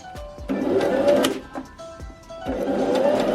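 A home sewing machine runs slowly in short stitching bursts, its whirring motor and needle clatter starting and stopping at close range as the seam is sewn back to the starting point.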